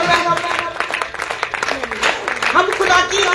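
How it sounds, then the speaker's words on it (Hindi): A congregation at a Christmas church service claps its hands together in a fast, rhythmic burst, loud and close, with a voice carrying over the clapping. "सबसे पहले ताली बजाएं।"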